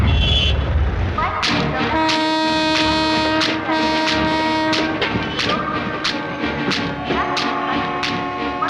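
The Cheran Express passenger train rolls past close by, its horn sounding long steady tones over a rhythmic run of loud wheel clacks and thumps.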